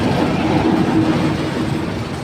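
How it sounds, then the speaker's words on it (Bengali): A train rolls past on the railway line beside the Karwan Bazar fish market, a loud, close, continuous rumble with faint rhythmic wheel clatter and no clear speech. "ট্রেন যাচ্ছে"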